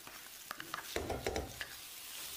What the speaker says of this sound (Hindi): अब हम मसाले को भी अच्छे से मिर्च के साथ मिक्स करेंगे।